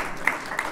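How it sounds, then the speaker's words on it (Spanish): Brief burst of applause from a children's audience at a magic show after a story ends, a dense crackling wash of clapping with a couple of sharper peaks, moderately loud and steady. "Un aplauso muy fuerte."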